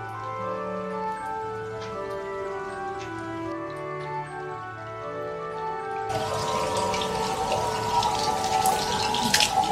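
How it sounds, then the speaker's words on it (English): Running cold water streams steadily from a tap at a temple in Otsu, Japan, over a faint background of tones, then the splashing grows louder and brighter as hands move under it. "Usual ritual of washing your hands with the water at the temples."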